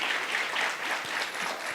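Audience at a career expo clapping together, a brief, even wash of many hands applauding at moderate distance with no voices standing out.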